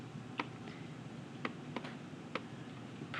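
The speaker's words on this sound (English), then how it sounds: "I'm just going to do that section in my calculator." Buttons on a calculator are pressed in four soft, sparse clicks spaced about a second apart, close by in a quiet room.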